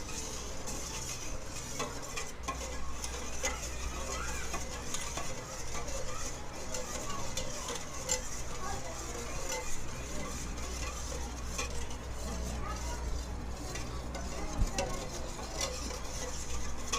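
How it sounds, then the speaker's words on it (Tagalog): Eggs stirred gently in a bowl for ube leche flan, a soft continuous scraping and swirling steady throughout with faint clinks of utensil on the bowl. "haluin na natin yung ating eggs. Dahan-dahan lang po sa paghalo para hindi bumula siyang masyado"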